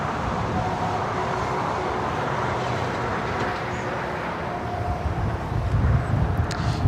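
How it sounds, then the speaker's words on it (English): A China Cargo Airlines Boeing 777 freighter takes off at LAX, its engines a steady broadband roar held for the whole stretch, swelling slightly near the end with no talk over it. "Got that China Cargo Airlines flight 222 heading to Shanghai, a 777 freighter. Be taking off"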